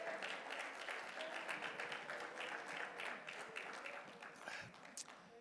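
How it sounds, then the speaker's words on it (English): Church congregation at a Sunday morning service clapping hands in praise, faint, fairly rhythmic clapping from many people with some scattered voices underneath. "Clap your hands and praise Him this morning."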